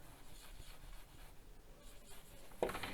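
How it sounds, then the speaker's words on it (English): Handwritten notes scratch faintly on paper in short, irregular strokes, quiet and close, with a brief louder scrape near the end. "let's write it down here"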